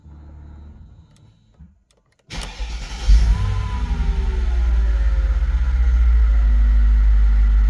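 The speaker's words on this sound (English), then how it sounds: "and if you start the engine" A Mercedes engine cranks and starts, one sharp catch and then a steady idle that holds alone and fairly loud, after a few seconds of quiet cabin noise.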